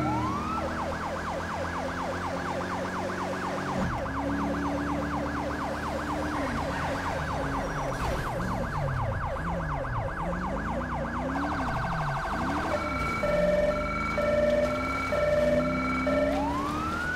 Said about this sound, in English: So using the same siren, the Federal Signal Delta.